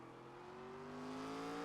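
The SRX race car in the iRacing game at Tsukuba revs up steadily, its engine note rising smoothly and growing slightly louder over a short stretch, heard alone without talking.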